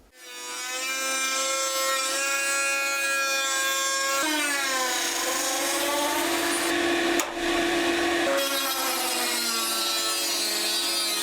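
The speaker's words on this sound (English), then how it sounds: "we're just going to cut this out again using the Dremel" A Dremel rotary tool cutting a carbon fibre car bonnet around the catch mechanism, a loud close high-pitched whine with shifting harmonic pitch as the blade bites and loads, continuous throughout.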